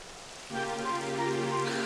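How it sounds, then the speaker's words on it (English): Rain starts falling in the Dragon Quest XI video game, a steady hiss of rainfall that sets in abruptly and continues under a sustained musical tone. "It would have to go and start raining, wouldn't it?"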